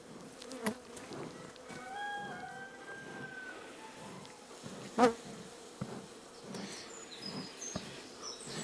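Honey bees buzzing around an open beehive on a cool day, a constant close insect drone with individual bees passing near, and no talk.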